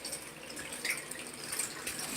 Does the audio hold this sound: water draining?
yes